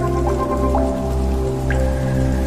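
Steady rain falls in a rainforest setting with hummingbirds, a constant close patter with a few distinct drips, with no voices.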